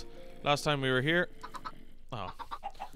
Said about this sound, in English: we got a few chickens going